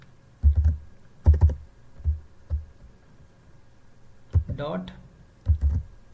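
Computer keyboard typing while coding a Python list, scattered close keystrokes in small clusters with pauses between them, and a person speaking briefly amid the taps.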